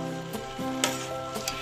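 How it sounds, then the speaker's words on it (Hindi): Sugar syrup cooking in a pan for instant gulab jamun, stirred continuously, giving a steady low bubbling sizzle with a few light scrapes and knocks of the spoon against the pan, close up and without talk. "चाशनी को लगातार हिलाते हुए पकाएं।"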